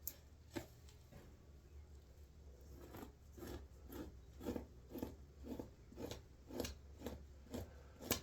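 Repeated scraping strokes of a blade working a nutria or mink pelt on a fleshing beam, steady rasping pulses at an even rhythm, close and fairly quiet.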